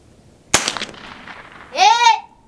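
An air gun fires once at outdoor targets with a single sharp, loud crack, followed about a second later by a short, rising vocal exclamation.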